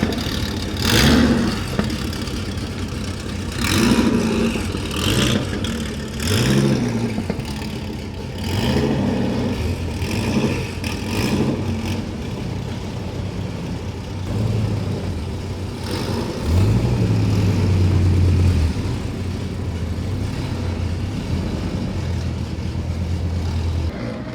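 Cars including Dodge Vipers, a Challenger ACR and a Camaro run at Sebring International Raceway, with repeated engine swells as they accelerate past, then a steady idle and a rising rev, loud and continuous without talk.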